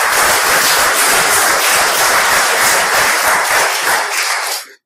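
Loud, dense applause from a large audience at a business talk. The clapping is sustained and even, then cuts off abruptly near the end.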